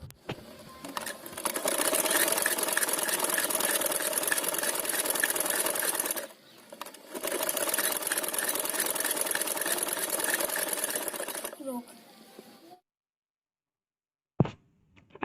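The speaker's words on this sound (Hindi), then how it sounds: "यहाँ से हम सिलाई लगाएंगे" A domestic sewing machine stitches a cloth face mask, whirring loudly and steadily in two long runs with a short break between, then stopping, followed by a single sharp knock.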